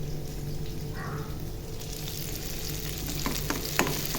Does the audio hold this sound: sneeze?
no